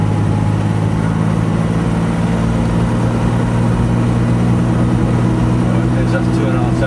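A 1967 Alvis automatic car with an overdrive drives in second gear, giving a steady, low, droning engine hum at constant revs from inside the car.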